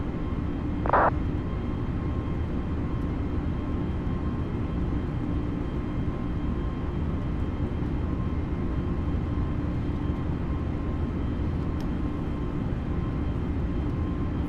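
Steady, loud airliner engine drone and low rumble fill the cabin of a flight simulator as the jet accelerates after takeoff, constant throughout with a brief higher tone near the start.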